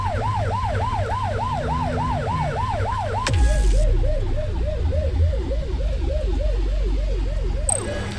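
A police car siren in the video game The Precinct wails, sweeping up and down steadily over a low engine rumble, then briefly cuts out and resumes its cycling wail, loud and close.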